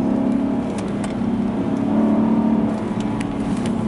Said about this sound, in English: you can hear that engine, you can hear that exhaust, especially when you rev it in sport mode